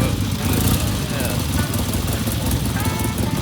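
Triumph twin-cylinder vintage motorcycle running at a motorcycle show in Ireland, its engine idling with a loud, rapid, even throb close by, while people talk over it.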